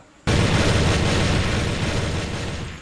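A sudden loud explosion bursts in after a brief quiet moment and its heavy, rumbling roar fills the rest of the short stretch, slowly easing but still strong at the end.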